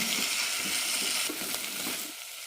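Brinjal (eggplant) being sautéed in a pan for a chutney gives off a steady, close sizzling hiss, with a few soft stirring scrapes. The sound thins out near the end, and no one speaks.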